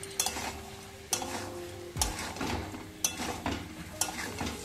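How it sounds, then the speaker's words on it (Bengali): A spoon scrapes and stirs fried potatoes through masala in a hot pan, with a scrape about once a second over a constant sizzle. "ভেজে রাখা আলুগুলো দিয়ে কিছুক্ষণ নেড়ে দেব মোটামুটি 2 থেকে 3 মিনিট।"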